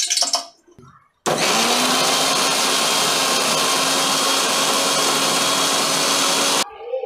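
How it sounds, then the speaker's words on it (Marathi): Mixer grinder grinding a wet masala paste with garam masala powder for clam sukka, a loud steady whirring drone that starts abruptly after a short quiet lead-in and runs for several seconds before cutting off. "मिक्सर लावून घेऊया"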